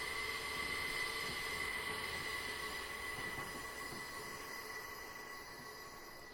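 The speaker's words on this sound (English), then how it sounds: "Oh, there's another train going by." A passing train on the Portsmouth Direct Line gives off steady high-pitched wheel squeal over a low rumbling rail noise, faint and slowly fading, with no voices.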